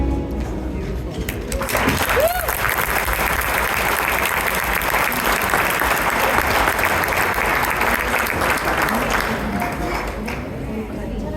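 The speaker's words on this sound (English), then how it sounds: "One more time, a big round of applause for Shy Care" An audience at an interfaith iftar gives a loud, sustained round of applause, a thick, even roar of many clapping hands lasting about ten seconds, with a brief vocal cheer near the start and a faint voice beneath.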